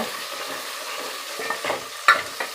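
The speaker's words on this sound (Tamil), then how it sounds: "நல்லா கொஞ்சம் நேரம் எண்ணெயிலே நல்லா வதங்கட்டும். கொஞ்சம் கருவேப்பிலை போட்டுக்கலாம். நல்லா கிண்டி விட்டுக்கோங்க." Onions and curry leaves stir-fried in oil in a pan: a steady sizzle with soft stirring scrapes that grow sharper and louder near the end. No one speaks.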